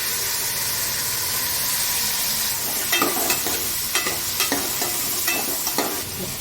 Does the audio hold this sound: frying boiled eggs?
yes